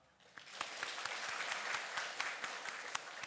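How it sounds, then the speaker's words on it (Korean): Church congregation applauding in comfort for a family returning from a funeral during a Sunday service, a rhythmic round of clapping that rises and holds, with sharp individual claps standing out over the crowd. "인사하실 때 위로의 박수 하겠습니다"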